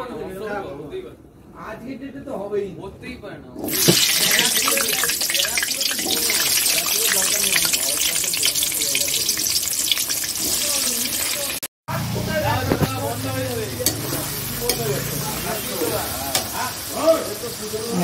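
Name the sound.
onions frying in hot oil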